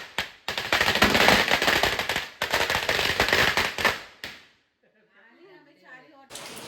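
Firecrackers burst in a loud, rapid crackling barrage for several seconds, stop briefly, resume, then cut out, leaving faint voices talking at a family gathering.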